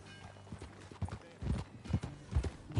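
Horse hooves clip-clop in a steady riding rhythm in a video game, loud thudding beats roughly every half second, with no talk over them.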